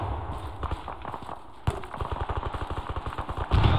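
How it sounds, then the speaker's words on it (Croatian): Gunfire at a vehicle in the video game Arma III: rapid bursts of sharp shots, some single cracks early and then a fast regular string of rounds, fairly close and loud. "pucanje po vozilu"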